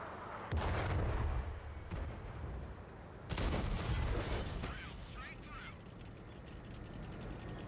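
Artillery fire in a tank video game: two heavy booming blasts, the first near the start and the second about three seconds later, each with a rumbling tail, over quieter game background noise.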